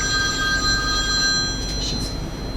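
A telephone rings through the room during a programming lecture, steady tonal bursts sounding under a constant background hum, with no talk over it.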